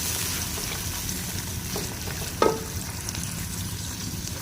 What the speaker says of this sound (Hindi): अब इसमें डालेंगे 2 अदद प्याज। प्याज को हम लाइट ब्राउन करेंगे।